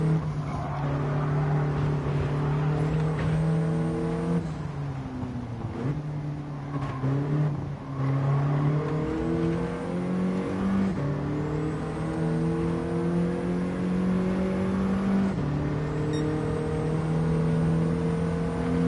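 A racing car engine in Gran Turismo 7 roars steadily at high revs, its pitch climbing through gear shifts with brief drops, loud and continuous without any talk.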